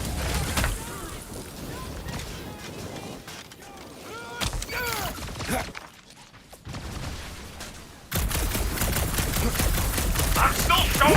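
Rapid blaster gunfire aimed at metal clamps in the Guardians of the Galaxy video game, dense bursts of shots layered over game effects and music, dropping briefly to near quiet before a loud, sustained barrage resumes.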